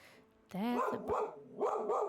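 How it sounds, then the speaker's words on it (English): A pet dog barks nearby in a few quick yelping barks that overlap a person talking at ordinary volume, with the barks partly buried under the speech. "She likes to bark at everything."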